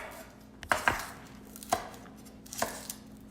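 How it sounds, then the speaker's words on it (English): Garlic cut on a small-sided cheese grater, heard as a few sharp, separate scraping and chopping hits close by, spaced unevenly over a quiet kitchen background with no talk. "I use a cheese grater on the smaller side to cut it up."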